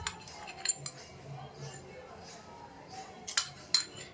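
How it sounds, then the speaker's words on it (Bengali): A spoon stirs powdered sugar into semolina in a bowl, making faint, scattered metallic clinks against the bowl, with a few sharper taps near the end. "এটাকে ভালোভাবে মিশিয়ে নিচ্ছি।"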